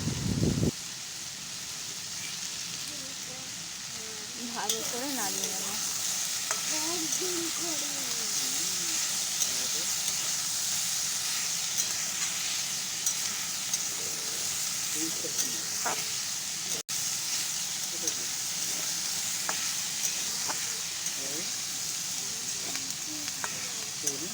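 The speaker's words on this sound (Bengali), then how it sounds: "এই কাঁচা ছোলাগুলো এবার আমি দিয়ে দিলাম" Soaked raw chickpeas frying in a pan: a sharp hit as they go in, then a steady loud sizzle and hiss that continues throughout, with occasional stirring scrapes and a voice talking quietly underneath.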